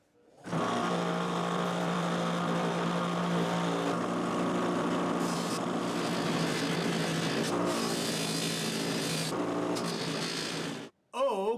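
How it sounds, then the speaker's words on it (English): A Scotch-Brite wheel spins against the frets of a replacement guitar neck, a steady loud whirring grind with a tonal hum that holds for about ten seconds, then stops abruptly before a brief final burst. "let's give this guy a hit with the Scotch-Brite wheel, and then we'll polish it"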